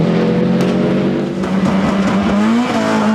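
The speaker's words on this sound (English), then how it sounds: "over-exuberant Hugh Martin Doherty throws away a few more seconds in his tail-happy Subaru" Tail-happy Subaru rally car at a 1998 rally in Lurgan Park, its engine roaring loud and close with a rising, straining pitch as it powers past.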